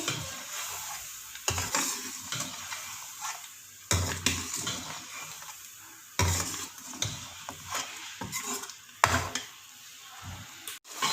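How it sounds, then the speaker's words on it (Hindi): Mutton with yogurt frying in a karahi, with steady sizzling and repeated spoon stirring and scraping against the metal pan, loud and close, with no talking. "अब हम इसमें दही ऐड करते हैं। अब इसको अच्छे से भून लेंगे।"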